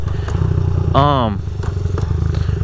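Honda CRF50 pit bike with its engine running rich, a close, steady putter with a brief rising rev in the middle, recorded while riding, with a person talking over it.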